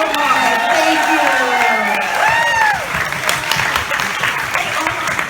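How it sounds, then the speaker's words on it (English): A crowd claps and cheers for a small child on stage, the applause dense at first with whoops and voices mixed in, then thinning out toward the end. "Give me a round of applause for Omar."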